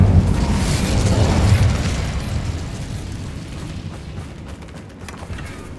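Incendio fire spell erupting in Hogwarts Legacy, a loud booming burst that swells in the first two seconds and then slowly decays into a rough, crackling rumble with no talk over it.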